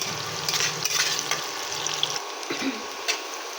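Chopped onions fry in a pan for a chana dal and soybean dish, producing a quiet, crackly sizzle with scattered pops and stirring scrapes. A low background hum fades out partway through.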